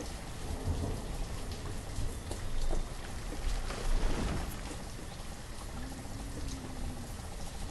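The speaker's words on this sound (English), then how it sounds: "Can hardly see in this rain." Rain falls steadily in the video game Banished, a dense, continuous hiss at moderate level with a few faint low rumbles beneath.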